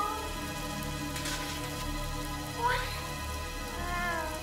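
A small stray cat in a Super Mario cartoon gives a couple of short, thin meows over a steady rain-like hiss, the calls faint and brief within the noisy background.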